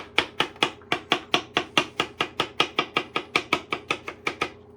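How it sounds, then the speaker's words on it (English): A kitchen knife finely dicing food on a cutting board, in a fast, steady run of crisp, close chopping taps, about four or five per second, with no talking. "you can kind of just finely dice this up"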